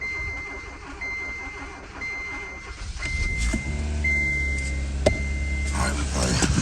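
A Kia Forte with a newly replaced fuel pump cranks and fires up, its engine settling into a low steady run close by, with a repeating electronic chime beeping over the start.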